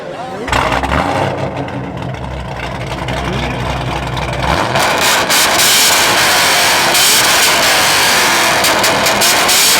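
A Dodge Hellcat engine at a car show rumbles low and near, then gives way to a louder, sustained roar of revving mixed with crowd noise and shouting voices.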